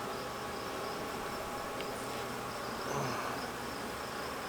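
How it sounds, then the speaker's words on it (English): A honey bee colony buzzes steadily inside an open hive, a dense continuous drone of many wings that stays close and even throughout, with a slight swell near the end and no talking. "They are making a weird buzz."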